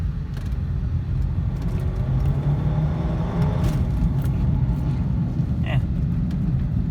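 Mercedes 190E fitted with a 2.3 16-valve head driving along, a steady low engine drone and road rumble heard from inside the car, with a brief word spoken over it.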